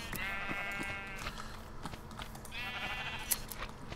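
Sheep bleat in Minecraft, two clear wavering bleats separated by a short pause over a low, steady background.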